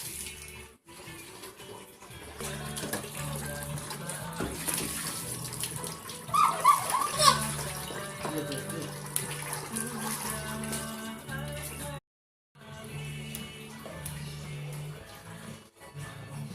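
Water pours and splashes from a tap as a toy train is washed during water play, a continuous close running-water sound with brief pauses, some hollow clunks and a tonal hum underneath.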